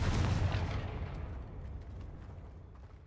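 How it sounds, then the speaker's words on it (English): Confringo fire spell blasting in Hogwarts Legacy, a loud booming explosion that hits at once and then rumbles and fades over a few seconds, with a few faint crackles in the tail. "Confringo!"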